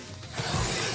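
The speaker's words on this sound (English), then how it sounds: "I'm just going to cut this side down just a little bit, just so that they can all be the same size" Paper edges are trimmed to size for a junk journal, giving a short, close, soft rasping cut that swells partway through and continues steadily.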